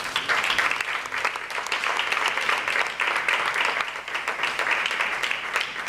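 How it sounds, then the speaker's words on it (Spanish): A live audience at a round-table discussion on surrealism breaks into applause: a dense, steady wash of many hands clapping that holds evenly throughout. "un aplauso para Cifrí."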